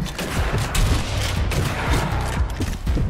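Gunfire in the video game ZAT, a dense burst of sharp overlapping shots and booming reports rolling continuously for a few seconds, loud and close with no talk.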